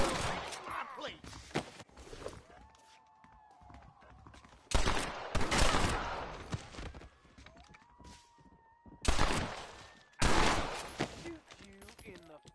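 Gunfire in the Red Dead Redemption video game: loud bursts of rapid gunshots, some near and some distant, separated by quieter stretches of game voices and whistling tones.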